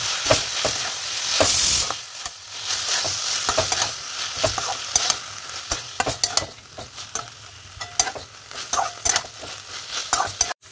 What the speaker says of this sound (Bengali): কিছুক্ষণ ভেজেই এবারে চিকেনটা এতে দিয়ে দেবো, আর ওর ম্যারিনেশনের যে মশলাটা সেটাও কিন্তু পুরোপুরি দিয়ে দেবো এতে, দিয়ে একসঙ্গে একটু কষাবো।